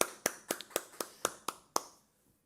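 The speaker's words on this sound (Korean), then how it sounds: "우리 영광의 박수 올리십시다." A church congregation at a Sunday service claps in unison, eight sharp, evenly spaced claps about a quarter second apart, then stops into quiet.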